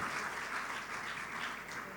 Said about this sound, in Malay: Satu tepukan juga tuan-tuan untuk Tuan KPPD kita.